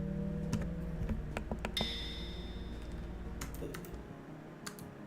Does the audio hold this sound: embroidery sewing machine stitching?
no